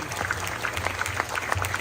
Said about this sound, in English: Let's give them a round of applause because they were helping to heal our community.